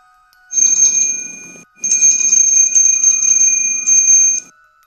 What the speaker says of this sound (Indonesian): suara lonceng itu terdengar lagi.